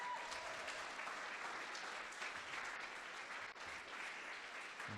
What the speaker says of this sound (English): Huge round of applause for Ash.